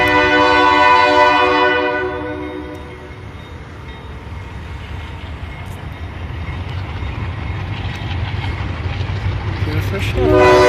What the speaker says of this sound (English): I like the train.